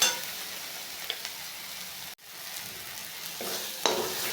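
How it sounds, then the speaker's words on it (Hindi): Masala sizzling and frying in hot oil while being stirred for a Jharkhand-style egg curry, a steady close crackle with brief scraping stirs and no talk. "अब इसको भी हम अच्छे से भूंज लेते हैं जब तक ये मसाला एकदम पूरा भुंजा के और तेल ना छोड़ दे"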